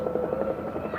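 Helicopter lifting off near a junior girls' rugby league gala day field, a faint, steady rhythmic rotor chop heard from a distance for about a second.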